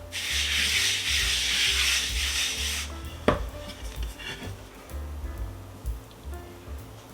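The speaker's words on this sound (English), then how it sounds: "Now we got to knead this together to get a nice elastic consistency of the dough" Bread dough for a Polish Easter bread with raisins is kneaded on a floured board. A loud, steady rough rubbing runs for about three seconds, then gives way to quieter, softer pressing with one sharp knock.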